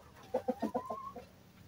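A rooster clucks in a quick run of about six short calls close by, the last one drawn out a little longer.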